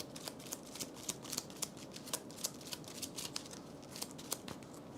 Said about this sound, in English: and then we shuffle these.